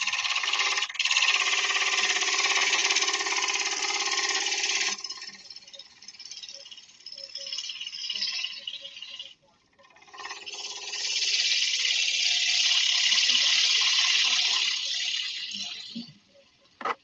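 A wooden bowl spins on a lathe as a 60-degree gouge cuts it, producing a loud, continuous rasping hiss that stops for a few seconds partway through and then starts up again.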